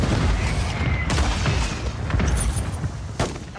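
Grenade blasts and heavy gunfire in the video game Call of Duty MW3, a dense, loud wall of booms and shots with sharper detonations punching through the continuous battle din.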